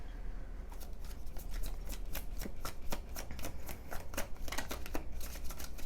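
Tarot cards shuffled by hand close up, a quick run of crisp flicking riffles and slaps that patter steadily and softly throughout.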